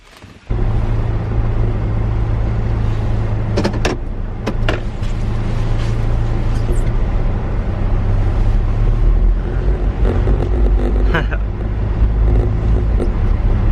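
A car driving on the road, a steady low engine and road rumble filling the cabin after a brief quiet start, with a few faint knocks and rattles over it.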